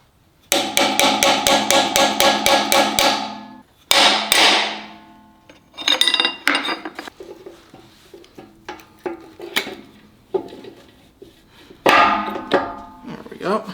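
Repeated hammer blows drive a pinion seal into a 2004 Ford F-150 9.75 axle: a fast, steady run of about a dozen loud metallic strikes, then a second burst and scattered lighter taps and clanks with workshop handling.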